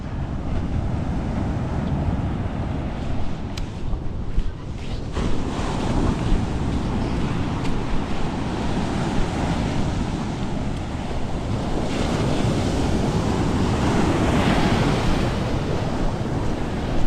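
Waves wash steadily onto the sea shore in a constant loud surf, mixed with heavy wind buffeting the microphone.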